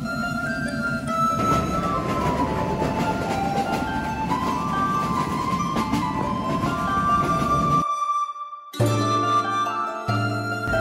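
A passenger train at Daulatpur railway station in Khulna during rain gives a continuous loud rumble threaded with high tonal squeals and whines, breaking off abruptly near the end before a deeper mechanical hum returns.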